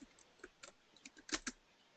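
Quick bursts of keystrokes on a computer keyboard, a handful of light clicks clustering into a faster flurry, close and quiet with no talk over them.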